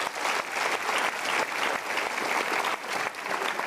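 Steady audience applause from a crowd at a talk-show style seminar, many hands clapping in a dense, even wash that holds loudly throughout with no voices on top.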